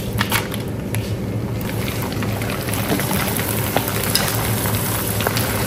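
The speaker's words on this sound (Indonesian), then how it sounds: "Berikutnya kita goreng lagi kerupuk merah." Red kerupuk crackers are deep-fried in hot oil as a side for soto Padang, a dense, steady sizzle and crackle filling the whole stretch at close range, with no one talking.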